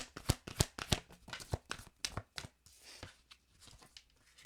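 Oracle cards shuffled and drawn from a deck: a rapid run of crisp riffling slaps and papery flutters up close, followed by softer shuffling and a few light card snaps, with no voice.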